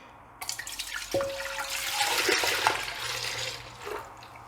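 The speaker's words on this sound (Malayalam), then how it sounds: "നമുക്ക് ഈ പാൽ ആദ്യം തന്നെ ഫുൾ ഇതിലേക്ക് ഒഴിച്ചു കൊടുക്കാം" Milk poured into a pressure cooker for Ambalapuzha pal payasam, a steady liquid splash and gurgle that starts abruptly and runs for several seconds, close and fairly loud, with no talk.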